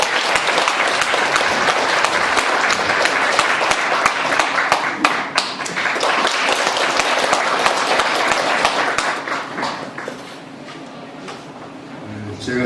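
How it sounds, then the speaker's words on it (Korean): An audience breaks into dense, loud applause as a former mayor is welcomed to the stage at a lecture event, sustained for about nine seconds before thinning out and fading, with voices heard under the clapping. "큰 박수로 맞아주십니다."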